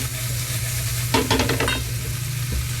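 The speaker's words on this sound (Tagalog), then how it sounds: "Balat saka ulo, i-brown lang natin. Gisa muna, i-brown ko muna bago ko pakuluan para mas lumabas yung lasa." Shrimp heads and shells being sautéed until browned for palabok sizzle steadily in a hot pan, with a short run of rapid scraping stir strokes in the middle and a clunk near the end.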